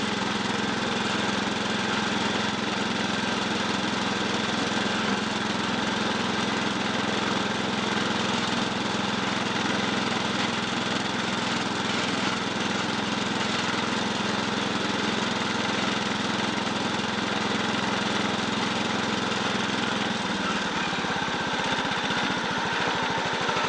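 A small Bolens garden tractor engine runs continuously at a steady drone, loud and close, with a slight change in pitch near the end.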